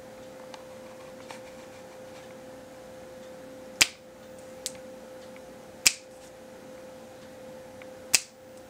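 Finger snaps set off a super-sensitive camera trigger mic, giving four or five sharp, isolated clicks spaced a second or two apart against a quiet room with a steady faint electrical hum.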